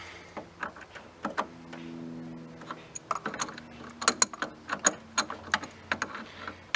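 A ratchet tightens the battery ground nut on a 1992 Dodge Dakota, giving quick bursts of close metallic clicking in several runs with short pauses between them, sharpest and densest toward the end.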